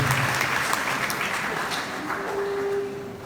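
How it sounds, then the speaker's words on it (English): Steady applause from a large crowd at a high school graduation ceremony in Jamaica, a continuous wash of clapping that holds for a few seconds before easing slightly. "give the fathers a special round of applause for them to come out to stand with their children"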